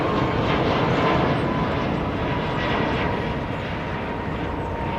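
Airliner arriving at London's Heathrow Airport, a loud, steady jet engine roar with broad rushing noise holding constant throughout, with no pauses.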